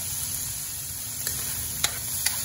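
Chopped tomatoes sizzle in a hot pan, lightly cooked as the start of an adobo of chicken liver, heart and gizzard: a steady, close hiss with a few faint spoon clicks and no voices.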